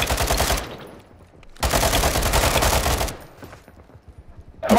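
Two long, loud bursts of rapid automatic gunfire in Call of Duty: Modern Warfare II, each lasting about a second and a half and separated by a short quieter gap, with a faint trailing shot at the end.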